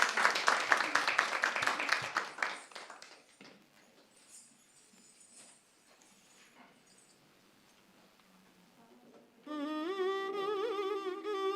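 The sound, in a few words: audience applause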